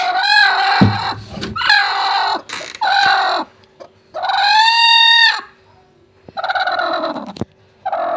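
A hen clucks and squawks in a series of loud, drawn-out calls close by, separated by short pauses and a few faint clicks.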